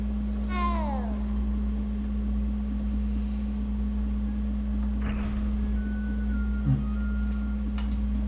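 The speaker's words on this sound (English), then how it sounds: "Oh, kitty." A cat in Hogwarts Legacy gives one clear, rising-and-falling meow near the start, followed by quieter game ambience with a faint hum and a couple of soft clicks.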